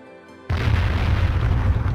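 A loud fireball explosion in a game set high in the skies bursts in abruptly after a brief musical tone, then rolls on as a dense, sustained boom and roar.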